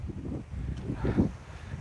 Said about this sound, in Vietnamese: Trời ơi, cái hơi là gió biển.